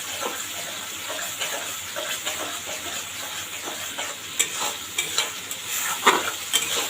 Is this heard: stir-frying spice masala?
yes